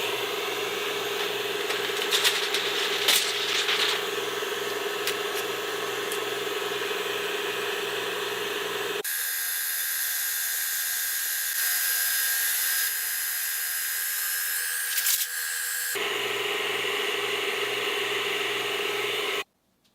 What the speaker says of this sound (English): let's go ahead and try to cut these two pieces of metal